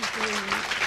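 Audience applause at a mushaira, a brief burst of dense clapping from the crowd with a voice speaking over it.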